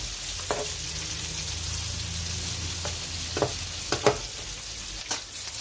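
Fish frying in hot, heavily spattering oil gives a constant close sizzle, broken by several sharp pops and crackles toward the end.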